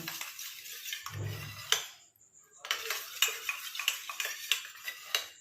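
A hair-dye mixture is stirred in a bowl with a utensil, giving quiet, close scraping strokes and light clinks in an uneven rhythm, interrupted by a short pause, with no voices.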